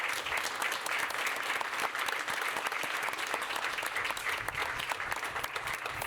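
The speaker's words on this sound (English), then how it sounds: "could we just give the candidates both a round of applause" At a city council candidate interview session, the room breaks into steady applause, a close, continuous patter of many hands clapping for around six seconds without pause.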